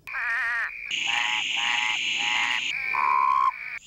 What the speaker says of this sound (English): Male frogs and toads attract their mates by singing.